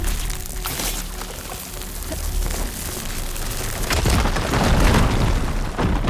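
A fire gleam explosion in Horizon Forbidden West, heard as a heavy, roaring boom with crackling debris that builds and swells loudly toward the end.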